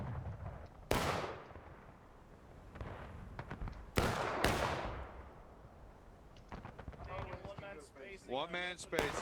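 Cannon fire from a Civil War battle game, two sharp booming blasts with rumbling decay and a third thinner report, spaced over several seconds against steady battlefield din, followed by faint voice-like tones near the end.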